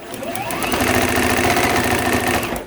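A sewing machine chain-pieces pairs of quilt patches for a four-patch block, a fast, steady mechanical stitching rhythm with a rising whir as it speeds up, close and continuous.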